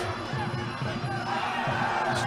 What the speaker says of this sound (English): You hear a roar of approval from the crowd.